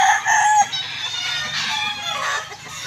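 Gamecock rooster at a fighting-cock farm crowing nearby, a loud drawn-out call opening the moment, then fading into a softer clucking, rustling farmyard.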